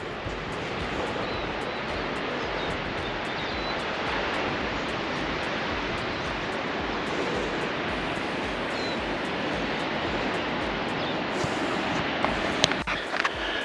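Surf breaking along Palm Beach near Barrenjoey Head, a steady broad wash of waves heard from nearby, continuous and fairly soft, with a few faint clicks late on.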